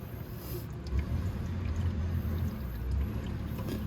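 Liquid coolant pours and gurgles steadily from a Venom X22GT 250cc automatic motorcycle radiator, a low continuous splashing flow heard close up.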